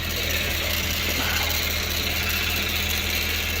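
Mercury Cougar engine idling inside a shop with a steady, even low rumble and mechanical vibration throughout, close and continuous, no voices.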